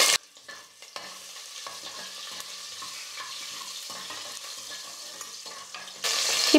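Garlic and green chilies frying in hot oil, a steady close sizzle with light stirring scrapes, growing brighter and louder near the end, no talk.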